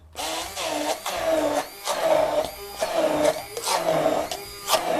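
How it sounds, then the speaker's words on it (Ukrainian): An electric blender whirs loudly through pumpkin roll batter made with eggs, running in repeated short bursts that rise and dip, close by with no talking. "І тепер саме просте, це нам треба заблендерити."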